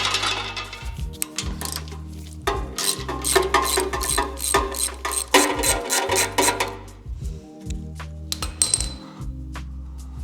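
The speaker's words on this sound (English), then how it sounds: "I'm gonna loosen these bottom oil pan bolts" Ratchet clicking in quick repeated bursts as oil pan bolts on a Ford 351C V8 engine are loosened, close and clear with a mechanical clatter and no talking.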